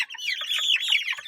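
Newly arrived chickens settle into a coop at night, letting out a short burst of soft warbling clucks and chirps, close by with no talk.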